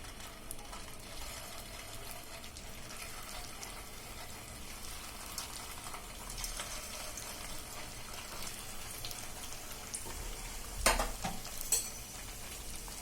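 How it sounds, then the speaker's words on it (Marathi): Oil sizzles steadily as cheese balls deep-fry in a pan over low heat, a continuous soft crackle with a few louder bubbling bursts near the end. "असे ब्राउनिश होईपर्यंत तळून घ्यायचे"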